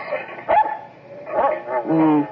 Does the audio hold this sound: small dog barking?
yes